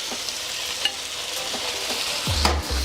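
Chicken chow mein stir-fries over high heat in a wok, a steady close sizzle with a few sharp scrapes and clanks of the utensil against the metal, no one speaking.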